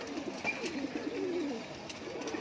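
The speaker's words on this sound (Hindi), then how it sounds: "ये पहलवान वाली ब्रीड में से बने हैं कबूतर ये" Pahalvan-breed pigeons coo close by, giving soft low gurgling calls over about two seconds against a quiet background.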